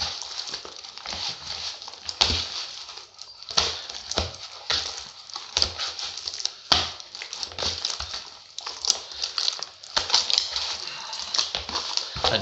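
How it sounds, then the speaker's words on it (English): Sourdough dough being loosely kneaded and folded by hand in a bowl, giving soft, sticky squelches and slaps in an uneven repeating rhythm, close and fairly quiet. "I'm just going to sort of loosely knead it in the bowl"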